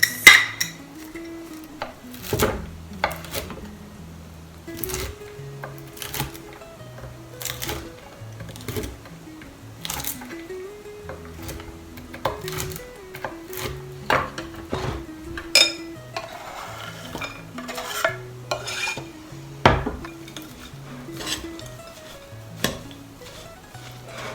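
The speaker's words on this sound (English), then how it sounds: "And I'm also going to cut up some walnuts." A knife chops walnuts on a board for an apple and pear bake, with sharp, irregular clicks and taps spaced over a quiet background that carries a soft, low hum.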